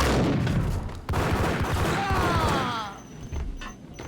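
Gunfire in the video game Max Payne: a dense, loud barrage of overlapping shots and impacts that fades slightly toward the end.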